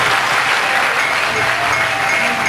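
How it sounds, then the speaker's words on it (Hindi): Loud, sustained applause from a large audience at a community award ceremony honoring talented students, dense clapping that fills the room steadily from start to finish. "जोरदार तालियां है"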